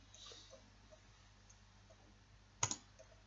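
A computer mouse clicked while working in TopSolid software, one crisp close double click against a faint steady hum, otherwise quiet.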